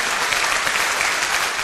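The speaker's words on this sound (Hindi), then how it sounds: "एक बार दिल से तालियां" Seminar audience applause: a dense, steady burst of many hands clapping together, loud and unbroken for under two seconds.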